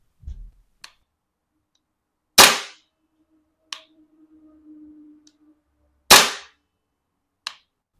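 An APFG SIG MCX Spear LT airsoft gas blowback rifle fires two sharp, loud single shots a few seconds apart, each followed by a lighter mechanical clack, with small clicks and a faint hiss of gas between them.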